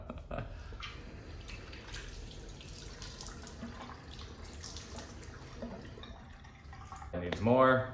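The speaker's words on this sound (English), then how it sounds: "So let me just rinse my face." Water runs steadily from a bathroom sink tap while a face is rinsed, a soft continuous splash with close talk over it and a brief sharper sound at the end.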